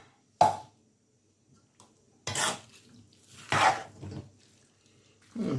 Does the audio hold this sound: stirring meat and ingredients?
yes